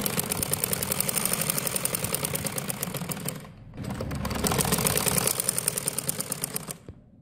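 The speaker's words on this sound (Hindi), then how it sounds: "अब हम इसको सिलाई लगा रहे हैं।" A sewing machine stitches fabric for an umbrella frock, running in a steady rapid mechanical rhythm for a few seconds, pausing briefly, then running again before stopping.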